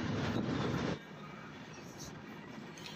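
A train crosses an iron bridge in a Madhya Pradesh forest, its loud, steady rumble dropping to a softer, continuous rolling roar after the first second.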